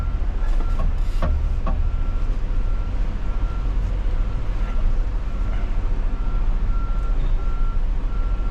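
A truck reverses a 53ft trailer through a tight yard, its backup alarm pulsing with steady repeated beeps over a constant engine rumble, with faint talk in the cab.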